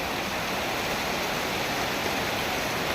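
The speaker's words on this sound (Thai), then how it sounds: "แต่เผลอแป๊บเดียวฝนตก กลายเป็นบรรยากาศกินข้าวจี่ฝนตกซะแล้ว" Rain falls outdoors in the cool season while sticky rice is grilled over an open fire, making a steady, even hiss that fills the whole stretch with no pauses and no voices.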